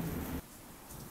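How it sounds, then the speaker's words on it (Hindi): Steady rain falls during the monsoon season, a soft, even hiss of drops that stays faint and continuous throughout, with no voices. "बारिश हो रही है"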